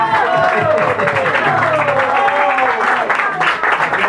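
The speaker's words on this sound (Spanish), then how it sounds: "¡Aplausos para don Rafael Amaranto!" Applause at a Peruvian peña gathering, with steady clapping mixed under a voice talking and sustained musical tones, all fairly loud and close throughout.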